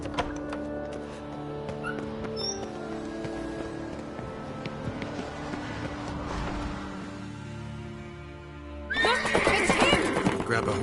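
A horse whinnies over a steady soundtrack in The Witcher 3 video game, and clopping hooves and rustling noise grow louder near the end.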